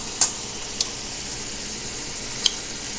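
A stir fry with sauce sizzles steadily in a pan, a soft, constant hiss broken by a few sharp pops and clinks of utensils.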